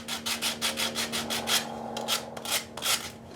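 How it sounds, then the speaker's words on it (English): Wood is hand-sanded with coarse 60 grit sandpaper, producing a close, rhythmic rasping scrape of quick back-and-forth strokes that repeat steadily with a few short pauses. "I'm gonna hit this with some pretty hardcore sandpaper. This is a 60 grit."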